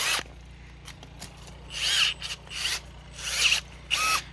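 A Milwaukee M12 battery pruner cutting through a 1-inch branch of wood softer than maple: several short whirring motor bursts with a buzzing cutting sound, close and moderately loud, no one talking.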